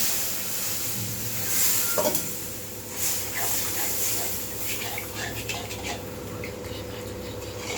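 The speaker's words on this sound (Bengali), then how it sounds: "মশলাটা কষা হয়ে গেছে, এবার এর মধ্যে জল মিশিয়ে দেবো।" Water is stirred into a well-fried spice paste for a pomfret curry. It gives a wet sizzle with scraping and bubbling in a pan, close by, and one sharper clatter partway through.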